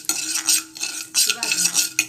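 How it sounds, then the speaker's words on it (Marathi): Poppy seeds being dry-roasted and stirred in a pan, a spoon scraping in repeated strokes with a soft rustling sizzle, close and clear with no talk, for a modak sweet. "खसखस भाजून घ्यायची. चांगली भाजून घ्यायची, कच्चा पाना निघाला पाहिजे खसखसमधनं,"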